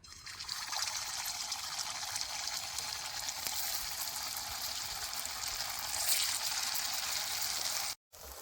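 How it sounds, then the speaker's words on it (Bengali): Pieces of fish frying in hot oil in a kadai on a village stove, a steady dense sizzle that holds nearly unbroken, close and moderately loud, with no talk. "এবার মাছগুলো গরম তেলে দিয়ে বাইজে নেবো"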